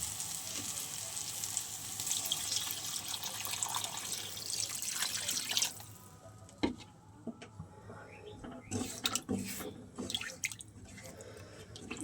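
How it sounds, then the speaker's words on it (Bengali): Water poured into a pan of fried food hisses loudly, then the sizzle drops away into bubbling and scattered drips and clinks, with no talking. "এবার আমি জল দিয়ে দেবো"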